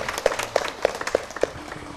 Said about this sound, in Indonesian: kita beri tepuk tangan sekali lagi.